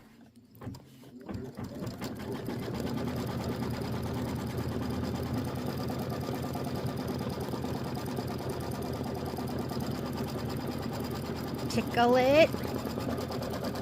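A sewing machine runs a quilting stitch on a Kimberbell quilt wall hanging with linen selected, a steady mechanical whir that lasts nearly the whole time, with a brief spike near the end and a voice speaking briefly at the start.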